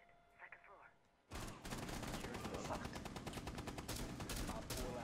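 Sustained rapid gunfire from a Rainbow Six Siege match erupts after a quiet second and keeps going loud and dense, with overlapping automatic bursts and sharp cracks to the end, voices faintly under the opening.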